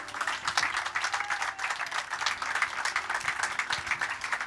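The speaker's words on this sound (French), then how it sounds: "On peut applaudir Monsieur Olivier Debrou." An audience applauds a speaker at the closing ceremony of the Relais pour la Vie charity event in Jodoigne, with steady, dense clapping that continues throughout at moderate loudness and no talk over it.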